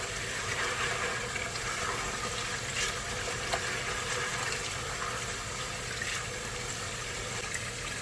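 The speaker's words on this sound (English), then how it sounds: "I'm going to clean it with warm water" Warm water runs into a cooking pot to rinse dry beans for refried beans, a steady moderate splashing rush with faint clinks, continuous throughout and without talk.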